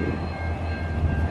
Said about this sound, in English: Not electric, it's a diesel locomotive.